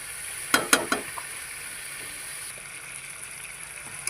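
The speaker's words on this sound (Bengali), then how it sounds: "মাংসটা এখন কষানো হচ্ছে। একটু ঢাকা দিয়ে রেখেছিলাম, এখন তুলে একটু নাড়িয়ে দিচ্ছি," Meat in a pot gives a steady soft sizzle, with a few sharp clanks of stirring early on before the frying hiss carries on quietly alone.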